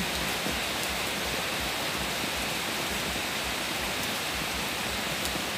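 Heavy, continuous rainfall hisses steadily throughout, a dense, even wash of sound with no pauses.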